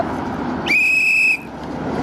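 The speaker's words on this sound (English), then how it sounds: "The whistle." A shrill, steady whistle blast lasting under a second, loud over a noisy outdoor background, rising sharply and cutting off abruptly.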